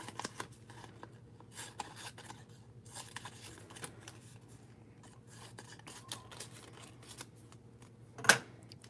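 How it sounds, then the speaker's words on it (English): Scissors snipping a sticky adhesive sheet into narrow strips at a papercraft card-making table: a run of soft, close crisp cuts and rustles over a low steady hum, ending in one sharper louder snip. "So I'm just gonna cut little strips."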